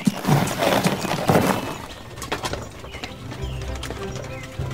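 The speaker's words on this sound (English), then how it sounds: "I whistle, and my horse comes over." A horse trots in close with quick clip-clopping hooves and lets out a whinny, then the hoofbeats ease off into a quieter, lower rumble toward the end.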